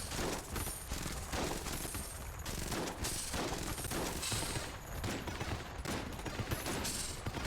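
Dense, continuous video-game gunfire pours at a boss for several seconds: rapid overlapping shots and bursts, loud and close, with no voices.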